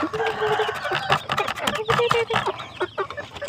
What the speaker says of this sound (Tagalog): yung aking mga matatangkad na manok yan manok sila yung Shamu mag-asawang Texas